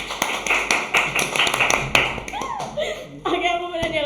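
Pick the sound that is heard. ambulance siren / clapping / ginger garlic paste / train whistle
clapping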